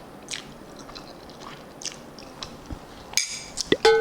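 Someone eats butter tadka Maggi noodles, a Punjabi-style preparation, with soft, close chewing and biting sounds and a few sharper clinks of a utensil near the end.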